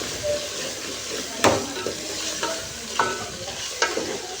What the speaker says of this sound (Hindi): तो ये आलू कीमे की हो रही है भुनाई।